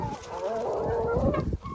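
Hens cluck close by in a short burst of overlapping low clucks and a rising squawk-like call, with a brief pause near the end before clucking resumes.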